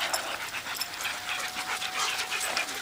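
Several dogs pant steadily and close by, a continuous breathy rhythm during an outdoor cart-training session in a park, with no talk over it.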